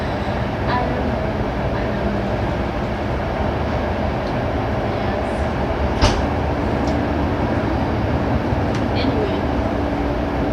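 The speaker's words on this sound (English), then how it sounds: "Train is really, really fast" Steady rumble of a train running on the rails, continuous and close, with faint clicks and rattles over the constant noise.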